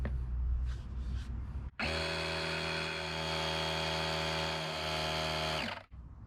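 A portable battery-powered air compressor inflating riding mower tires runs with a steady, close mechanical buzz for about four seconds, after a short rustling start, then cuts off abruptly.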